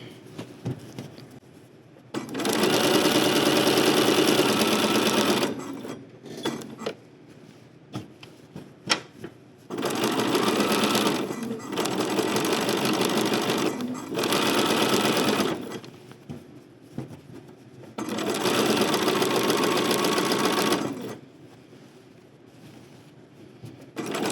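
A sewing machine stitches a seam on a summery caftan in four loud, sustained bursts of rapid close-up whirring, separated by short quiet pauses with small handling clicks.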